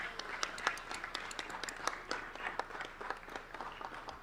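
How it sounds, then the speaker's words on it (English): Applause at a Los Angeles city council event, quiet and somewhat distant clapping from a modest crowd, uneven and scattered over a few seconds. "Let's give him a big round of applause."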